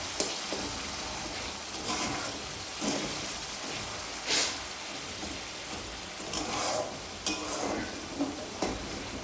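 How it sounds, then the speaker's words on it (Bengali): Tomato and spices frying in a pan, likely in mustard oil, with a steady low sizzle broken by intermittent scraping stirs of the spatula. No one speaks. "যত ভাজা হচ্ছে টমেটোটা আরও গলে যাচ্ছে,"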